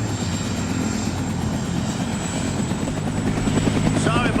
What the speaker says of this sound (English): He was asking if the chopper's available.